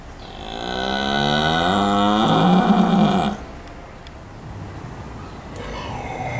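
A cow gives a long, loud, drawn-out moo lasting about three seconds, its pitch sliding upward before it cuts off, followed by quieter outdoor background noise.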